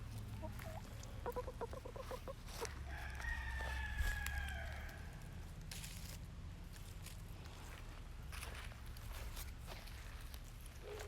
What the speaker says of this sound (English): Cinderella is an amberlink, and she is one of the original hens that I purchased along with Chico.